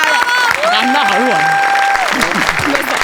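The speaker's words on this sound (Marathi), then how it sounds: "मंडळी जोरदार टाळ्या" Applause from a comedy show audience for a 95-year-old honoree receiving an award, mixed with voices and background music, steady and fairly loud throughout.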